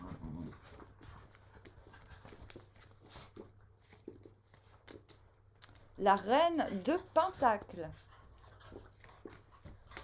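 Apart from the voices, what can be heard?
dogs panting and whimpering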